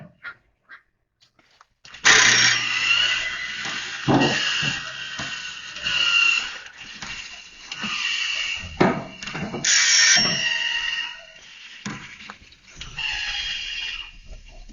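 Battery-powered Woodland Mills tooth setter and sawblade sharpener feeding a band sawmill blade and grinding its teeth, heard as a steady whirring grind with mechanical clicks and rises in pitch, close up, running continuously after a short start.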